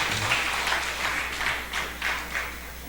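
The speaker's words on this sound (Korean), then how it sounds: "큰 박수 한번 해주시기 바랍니다." Congregation at a Sunday morning church service giving a round of applause, a moderate, steady patter of clapping over a low hum of room tone that continues evenly throughout.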